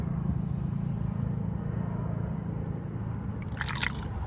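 Coolant poured through a funnel into a BMW cooling system, a steady liquid trickle and gurgle running throughout beneath a low engine-bay hum, with a brief brighter splash near the end.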